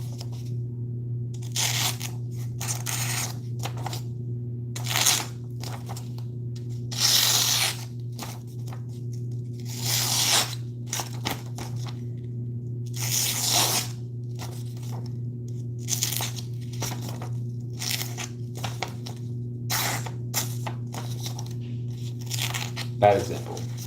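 Very thin paper being cut in a series of short, crisp, rustling bursts at an irregular pace over a steady low electrical hum.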